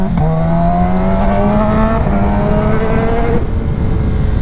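A new-generation ZX10 sport motorcycle being ridden, its engine a loud, steady high-revving drone that climbs in pitch for about three seconds, then dips briefly as the throttle eases and pulls on.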